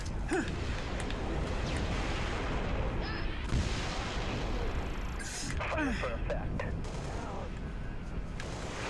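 Artillery fire in Halo Reach: heavy booming blasts and scattered gunfire rumble continuously through a dense battle mix, with a few sharper explosive bursts standing out.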